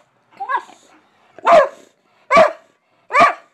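A dog barks three sharp times at a steady interval, close and loud, after a softer yip or whimper at the start.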